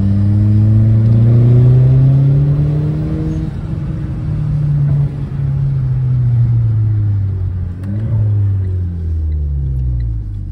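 A Renault Clio 4 RS with a Stage 1 tune (250 hp) and stainless exhaust with dump valve revs up and down steadily outdoors, rising and falling in pitch over several seconds, loud and close with a deep rumbling tone.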